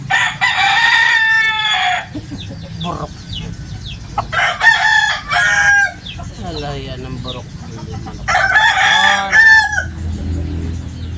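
A Texas breed rooster crows several times in long, loud, close calls, with clucking and chicken sounds between the crows and a voice speaking briefly in the background.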